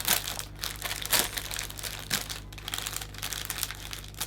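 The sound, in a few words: cellophane being folded and crinkled around a bouquet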